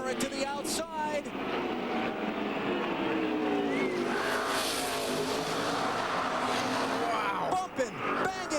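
NASCAR stock cars racing at Martinsville, a loud roar of engines revving hard through the final corners as a packed field bumps and bangs, with excited commentary running over the noise.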